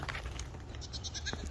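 Goats on a farm bleat in short, faint bursts against steady outdoor background noise.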